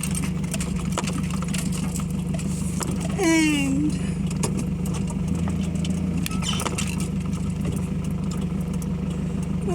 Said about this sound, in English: I got another car coming.